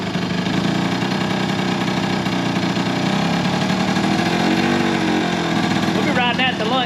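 An old scooter engine idles steadily after its first start in years, still waiting on a carburetor. Its continuous buzzing rumble runs throughout under men chatting nearby.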